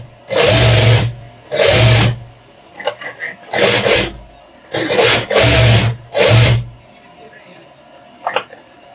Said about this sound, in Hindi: फिर इसी तरह हम इसको सिलाई लगा लेंगे।